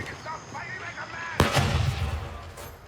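A grenade goes off in Grayzone Warfare, a sudden loud blast partway through, its rumble trailing off over the next second, after a stretch of quieter game ambience and faint voice chat.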